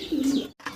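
A fancy pigeon lets out a single short, close coo in a pigeon loft, a brief throaty note that breaks off abruptly.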